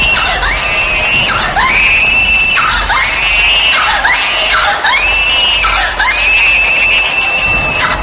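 A woman lets out about five shrill, sustained screams in quick succession over a noisy crowd background, a horror audio drama effect.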